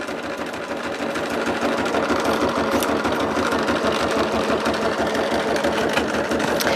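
An embroidery machine stitches a satin stitch at a fast, even mechanical rattle, continuous and close, with no voices over it.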